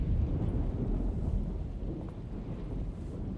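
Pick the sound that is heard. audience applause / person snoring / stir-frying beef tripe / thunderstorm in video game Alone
thunderstorm in video game Alone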